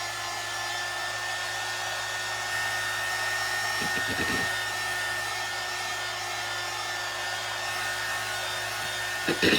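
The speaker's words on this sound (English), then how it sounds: "do not hold your heat gun in one spot next to paint because it's going to bubble" A heat gun blows steadily while drying paint on a faux deer skin sign, a constant loud airy hum held close throughout with a few faint knocks partway through.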